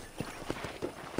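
Horse hooves clip-clopping in the Western video game Red Dead Redemption; four or five evenly paced hollow thuds in quick succession, fairly close and distinct over a faint background.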